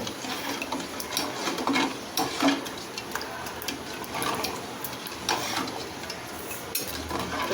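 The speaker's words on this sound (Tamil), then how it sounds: "கொஞ்சம் நேரம் இப்படி கலந்து விட்டுக்கலாம்" A spoon scrapes and swirls around a pot of nannari sugar syrup in uneven strokes, with soft clinks against the metal, fairly quiet and without talking.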